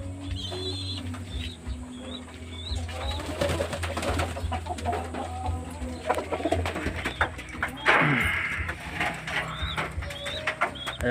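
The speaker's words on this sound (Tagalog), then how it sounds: "pakita ko sa inyo lahat ng ating mga ibon" Pigeons coo repeatedly inside a loft, a low steady chorus of near birds with occasional wing flaps and rustling, no talk over it.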